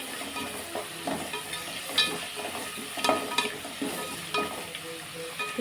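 Vegetables for vangi bath fry in a pan with a low, steady sizzle, broken by repeated close clicks and scrapes of a spatula stirring.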